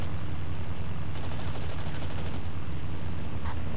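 An aircraft machine gun fires in Battlefield 1942 during a Battle of Britain dogfight: one rapid, evenly paced burst of about a second over the constant low drone of the plane's engine.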